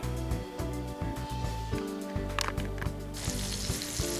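Sausage cooking on very low heat in a refurbished cast iron skillet with canola oil, a soft steady sizzle beneath a low droning hum, quiet and continuous without talking.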